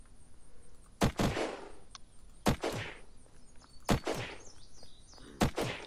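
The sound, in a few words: automatic gunfire from the video game Unturned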